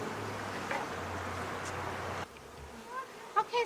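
Honey bees hum steadily around a freshly split beehive nucleus with a sugar-water feeder at the entrance, a close, continuous buzz that drops away partway through as light outdoor noise and a few faint chirps remain.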